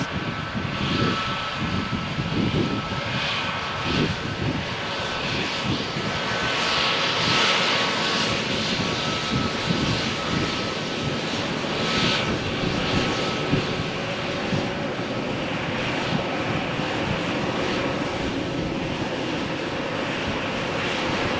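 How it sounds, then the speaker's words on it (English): A Vueling Airbus A321neo taking off from Runway 13 at Malaga Airport on a stormy morning, a loud sustained jet roar with rushing, gusty layers that holds steady throughout. "It would not be a big surprise if the Vueling flight will show us immediate takeoff."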